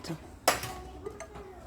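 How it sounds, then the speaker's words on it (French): Small granite saucepans of about 12 cm diameter are handled, producing one sharp metallic clink followed by a few lighter taps and knocks, close but faint. "on retrouve ces petites casseroles. Elles sont magnifiques. C'est des casseroles à granit."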